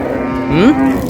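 A single cow with a calf moos close by at a cattle market, a brief rising low call over murmuring market crowd noise.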